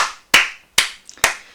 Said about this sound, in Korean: 일단 박수 한번 치고 시작할게요.